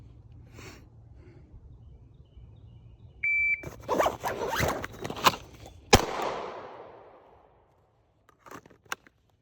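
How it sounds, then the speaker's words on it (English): Zippers on a 945 Industries Morph are split open in a handful of quick rasping pulls and sharp snaps, close by, then fading to near silence with a few faint clicks. "So if we want to draw it out, we do have to split the zippers."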